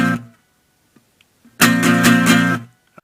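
Electric guitar finishing a song intro pattern: a short chord tail, faint string noises, then about a second of loud, rapidly picked chords that cut off, with a small click at the end.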